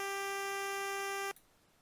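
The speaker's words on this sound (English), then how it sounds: "I'm just moving the loop to create a phaser effect" A bright, buzzy looped chip sample in Protracker holds steady with rich overtones and a phaser effect made by moving the loop, then stops sharply, leaving faint background hiss.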